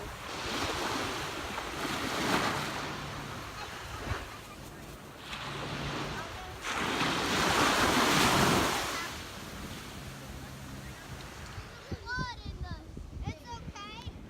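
Ocean waves break and wash in surges at a beach while wind buffets the air, the swells rising and falling in loudness before fading near the end, where a few faint sounds come through.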